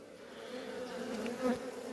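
Steady honeybee buzzing around a hive fills the air, a close, continuous drone with a few louder passes of individual bees.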